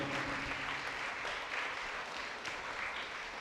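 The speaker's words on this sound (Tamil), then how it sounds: "நாம் கைத்தட்டி நம்முடைய வாழ்த்துக்களை நன்றியும் தெரிவிப்போம்." A church congregation applauding at a Tamil Catholic feast-day Mass at St. Arulanandar church in Subramaniapuram, steady dense clapping throughout, fairly close and continuous with no talk.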